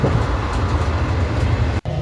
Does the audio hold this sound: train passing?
yes